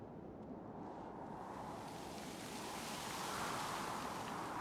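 Steady, soft wash of pool water ambience on the Citadel in Mass Effect, a continuous low rushing hiss that swells slightly toward the end, with no voices.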